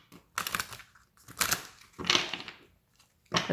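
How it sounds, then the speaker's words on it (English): Oracle cards shuffled by hand during a tarot-style reading, giving four separate crisp, papery riffling bursts with short quiet gaps between them, fairly close and with no talking. "Let's see if I can get a decent shuffle at least"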